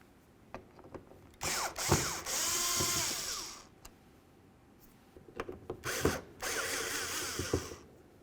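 Power screwdriver whirring in bursts as it backs out Phillips-head mounting screws from the high-mount third brake light of a 2006-2010 Ford Explorer, two main runs separated by small clicks and handling noises, close and fairly loud, no talking.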